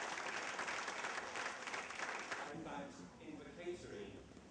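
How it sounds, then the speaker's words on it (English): Parents and teachers applaud at a Sanskrit speech competition at a London junior school, a dense, steady clapping from an indoor crowd that thins and softens toward the end. "Proud parents and teachers applauding their efforts."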